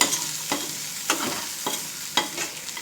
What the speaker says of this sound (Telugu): మ్యాజిక్ మసాలా వేసి కలిపేస్తాను